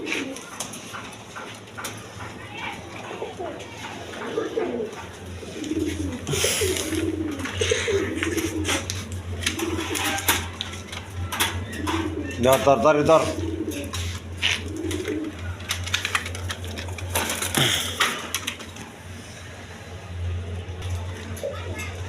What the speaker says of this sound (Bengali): দর্শকবৃন্দ এখানে এক পেয়ার অরেঞ্জ চিলা কবুতর আছে, দেখেন কোয়ালিটি সম্পন্ন কবুতর